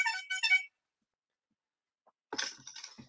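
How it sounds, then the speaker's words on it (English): A clown horn phone ringtone sounds in short honking bursts: two quick honks, a long silence, then a louder, buzzier honk trailing off, heard alone. "I hear that horn. I ain't picking up the phone."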